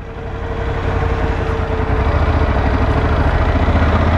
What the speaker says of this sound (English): a bit chuggy there. It just doesn't like low revs, this bike.